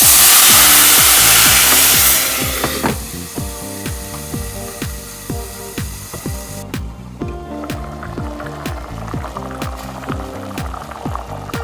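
Sauce is poured into a pan of browning rice for Mexican white rice, giving a loud hissing sizzle that fades over a couple of seconds, over a steady rhythmic mechanical clatter that continues to the end.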